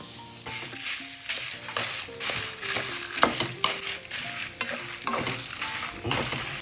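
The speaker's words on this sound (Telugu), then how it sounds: "ఇట్లా లైట్గా వేయించుకోవాలి" Dried red chillies fry lightly in a pan, giving a steady close sizzle broken by repeated scraping stirs of a spatula, continuous with no voices.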